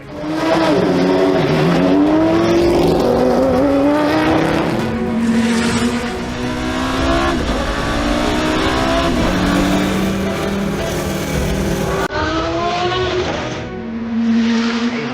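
Porsche LMP 2000 prototype race car engine roaring loudly nearby, with rising and falling revs and sustained high-pitched blips over about fifteen seconds, no talking.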